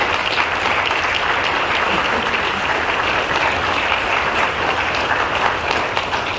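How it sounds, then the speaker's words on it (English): An outdoor crowd at a press conference at Cahokia Mounds claps in a dense, even round of applause that holds steady at moderate loudness with no talking. "I think they deserve a round of applause"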